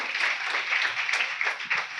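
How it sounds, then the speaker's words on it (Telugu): A church congregation claps together during a Sunday service: faint, steady hand-clapping with a soft, dense patter and a few sharper claps standing out, heard from some distance. "చప్పట్లు కూడా దేవునామానికి."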